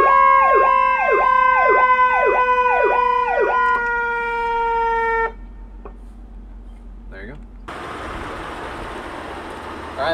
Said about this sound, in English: having both of the siren boxes and siren speakers separate is that they can run at the same time